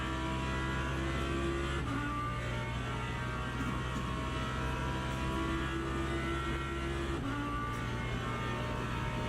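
A GT3 race car engine in the Le Mans Ultimate sim racing game drones at high, steady revs at Monza, holding a near-constant pitch with a brief shift partway through, loud and continuous, almost topping out.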